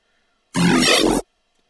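A single weasel synth preset hit in a tech step drum and bass style sounds as one dense, gritty, distorted burst with a heavy low end, lasting under a second and standing alone between stretches of silence.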